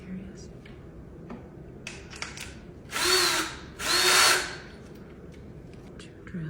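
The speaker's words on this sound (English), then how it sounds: "Two drills, toilet paper roll." Two cordless power drills spinning a toilet paper roll, giving two loud whirring bursts of about a second each, close by, separated by a short pause against a quiet room background.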